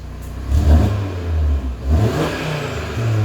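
An Audi RS3 with an AWE Switchpath exhaust, valves closed, revs to 3,000 RPM, giving loud, close, deep engine blips that swell and fall twice over a steady idle.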